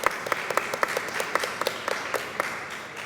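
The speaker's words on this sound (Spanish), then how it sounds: "para quien pido un fuerte aplauso" Audience applause at a climate press conference, brisk clapping from a modest crowd with distinct individual claps audible, lively and fairly close, lasting a few seconds.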